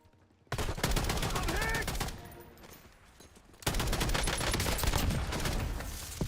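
Rapid bursts of gunfire from a Call of Duty Black Ops 6 multiplayer match, a dense crackling volley that pauses briefly and then resumes loud and sustained, with game speech faint underneath.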